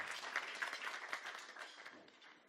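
Audience applause at a graduation ceremony, a dense spread of many hands clapping together, steady at first and then slowly thinning and fading toward the end.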